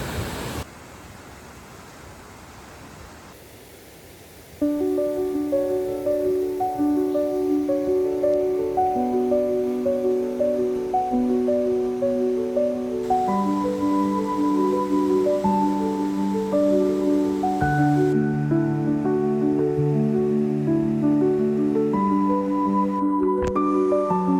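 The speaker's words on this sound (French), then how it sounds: "Elle fait du bruit la cascade." Steady rushing noise of a waterfall fills the whole stretch, joined after a few seconds by a calm melodic music track playing over it.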